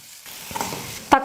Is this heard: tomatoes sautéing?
yes